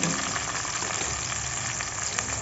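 Onions frying in hot ghee for chicken biryani, a steady, close and continuous sizzle and crackle with no talk over it.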